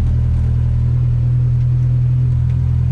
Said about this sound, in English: we are driving a GLTC car here